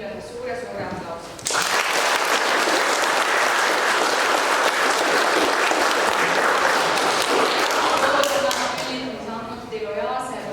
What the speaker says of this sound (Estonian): teeme Küllile ühe suure aplausi